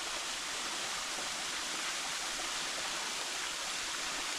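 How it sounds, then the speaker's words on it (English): Constant broadband rush of falling water from a waterfall on the Sougahoagdee Falls trail in Alabama, even and unbroken, with no voices. "Nice waterfall over there."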